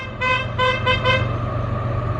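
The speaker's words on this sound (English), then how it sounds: "Oh, the honking there." Car horn honks several times in quick succession on a road near a train line, short tonal blasts over a steady rumble of background traffic.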